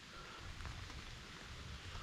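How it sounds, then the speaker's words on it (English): Steady rain drums on a tent during a thunderstorm while hiking around Trout Run Valley, a soft, even hiss that stays constant and fairly faint, with no voices. "On the good side, we get some rain, so all the hot air is gone"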